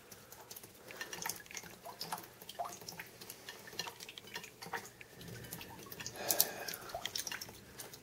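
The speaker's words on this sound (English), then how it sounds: "this north-facing bay window becomes a sieve for water" Rainwater drips steadily through a leaking joint between a north-facing bay window and the wall, the irregular close taps and splashes falling alone with no talk.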